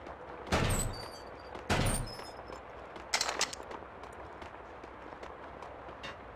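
Gunfire in Max Payne 2 as shots tear through boxes: three loud separate bursts spaced a second or so apart, each a sharp crack with a rattling tail, over quiet game ambience.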